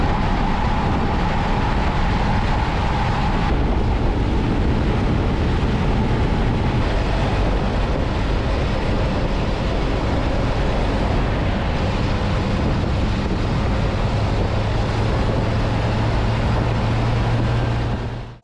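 A Jeep TJ driven on the road with its doors off gives a steady, loud roar of engine and rushing wind that holds without a break and stays unchanged from start to finish.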